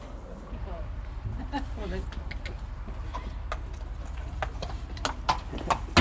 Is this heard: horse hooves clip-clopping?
yes